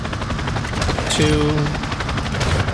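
Helicopter machine gun fire from a chopper gunner in a video game, rapid rattling bursts over a constant rotor drone, loud and close, with a brief spoken count.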